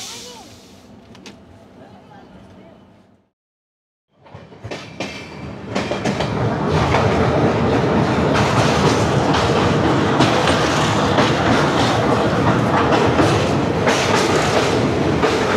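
A night train running from Kolkata to Puri, with steady loud wheel and carriage rumble and rhythmic clatter that fills the clip after a brief quieter stretch and a short drop to silence near the start.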